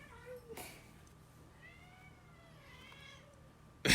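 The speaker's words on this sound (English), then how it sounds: "We got a cat fight here. The kitties are fighting." Cats meowing and yowling in drawn-out, wavering cries at close range, with a sharp scuffle burst midway and a loud thump at the end.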